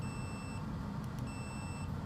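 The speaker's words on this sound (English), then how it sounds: "and you hear two beeps." A key fob tester device, checking a Mercedes-Benz C230 remote, gives two short high-pitched electronic beeps, one early and one later, each clear over a low, steady background hum.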